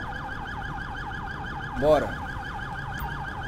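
A police car siren in GTA 5 wails steadily in a fast repeating sweep, loud and close throughout, with a single short spoken word partway through.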